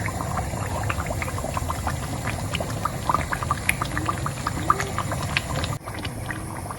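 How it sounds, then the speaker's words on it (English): Spices and mushrooms go into a pan of vegetarian shito sauce with dawadawa, which bubbles and pops steadily, a dense simmering sizzle with small scattered spits running continuously at close range. "I will go ahead and add my natural spices and the mushrooms"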